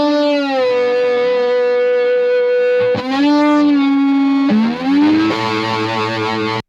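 Distorted electric guitar holding long sustained notes and slides, doubled by a short Haas-effect delay with the dry and delayed copies panned wide left and right; loud, steady and alone with no talking.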